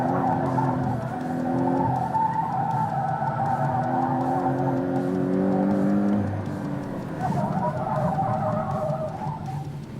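A Porsche 718 Cayman T is driven hard through corners, its engine note rising and falling at steady loud volume with some tire noise, recorded from inside the car.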